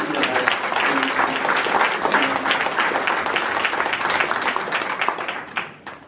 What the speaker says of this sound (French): Une grosse main d'applaudissements.